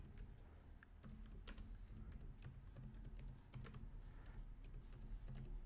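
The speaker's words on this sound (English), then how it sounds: "Let me type in Black History Month." Typing on a computer keyboard: a quick, irregular run of close, crisp key clicks that keeps going without a break, with no voices.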